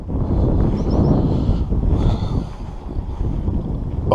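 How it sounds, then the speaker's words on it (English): Wind gusts over a pond buffet a microphone in steady low rumbling bursts, loud and close, with no talk. "A little windy, guys. You're gonna hear some wind."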